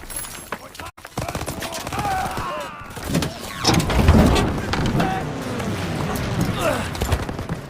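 Machine gun fire in the World War II shooter game Call of Duty WW2, rapid bursts crackling amid explosions and vehicle rumble, with voices talking over the loud chaotic battle.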